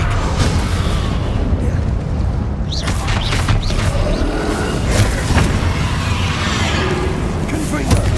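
Confringo and Bombarda explosion spells burst over and over in a Hogwarts Legacy battle, a loud, dense run of booming blasts and crackling impacts layered over a constant roar of combat, with a voice speaking now and then.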